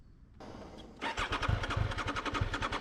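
A Triumph Daytona 660 motorcycle engine cranks and catches roughly, sputtering in uneven pulses as it struggles to start, loud and close with no talk over it.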